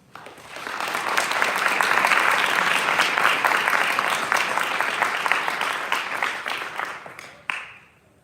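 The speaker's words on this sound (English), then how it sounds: "We will now applaud all the new members." An audience at a high school National Honor Society induction ceremony applauds the new members, a sustained dense round of clapping that swells quickly, holds steady, then tapers off near the end.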